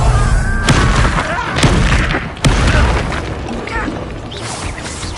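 Fiery Confringo spell blasts in Hogwarts Legacy, several loud booming bursts landing in quick succession over dense, continuous game-combat noise, with a deep rumble lingering between impacts.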